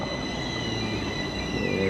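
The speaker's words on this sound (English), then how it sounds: "So here is a train." A metro train pulls into Skärmarbrink subway station in Stockholm, a steady broadband rumble and rail hiss with faint high whining tones, growing slightly louder toward the end.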